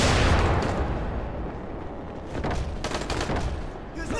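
Dying Light gameplay with a grenade blast and gunfire, a loud booming explosion that rumbles and decays, then a burst of rapid sharp shots and crackling.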